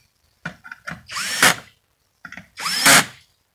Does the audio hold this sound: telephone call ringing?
no